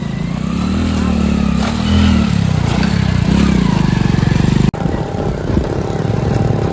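A Hero Splendor motorcycle on the move, its small single-cylinder engine droning steadily and loudly up close, with wind buffeting and a brief drop partway through before the engine note carries on.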